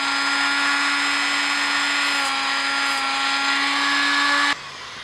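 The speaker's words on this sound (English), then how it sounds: "I kind of rotate a little bit, just drag the Dremel across it." A Dremel rotary tool grinds steadily across a foam spike for a helmet build, a loud continuous high-pitched whine with a constant tone that drops off abruptly near the end.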